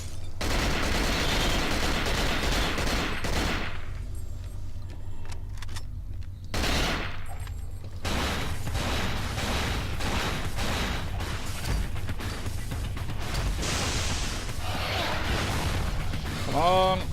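Shotgun blasts in the survival horror game Cold Fear, heavy booming shots fired repeatedly amid game noise and music, with a voice talking over parts of the action.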